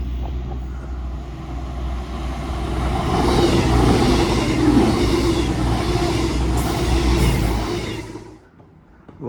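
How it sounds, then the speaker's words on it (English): A CrossCountry passenger train between Manchester Piccadilly and Bristol Temple Meads rumbles through a station, swelling to a broad roar midway and then fading away, with no talking. "About to pass through is going to be a cross-country service running from Manchester Piccadilly to Bristol Temple Meads via Birmingham New Street"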